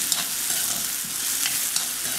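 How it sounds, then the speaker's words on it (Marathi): Finely chopped onion sautés in a pan with a soft, steady sizzle, and a few light stirring scrapes cut in over the short stretch. "हा जो कांदा आहे हा फक्त ट्रान्सपरंट करायचा आहे आपल्याला, खूप जास्त ब्राउनिश करायचं नाही"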